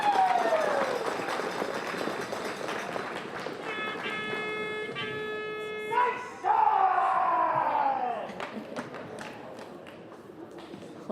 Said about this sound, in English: Homan fans in the crowd starting to get a bit more riled up as we get further into this game.